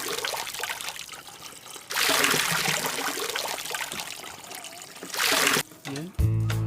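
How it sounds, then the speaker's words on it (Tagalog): Water poured into a cooking pot for chicken tinola with malunggay, a steady trickling and splashing wash in two loud bursts, with a brief clatter at the end. "add the water"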